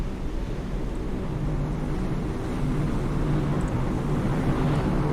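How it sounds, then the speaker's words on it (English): A helicopter droning overhead in the submarine game Cold Waters, with the USS Oklahoma City (SSN-723), a steady low rumbling hum that holds even and unbroken throughout. "That's a helicopter listening for us"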